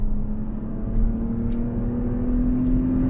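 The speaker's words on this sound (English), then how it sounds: "it takes off pretty good for a 6-cylinder" A 6-cylinder car set in sport mode pulls away with a steady, droning engine hum heard from inside the cabin, holding level and fairly loud with no talk.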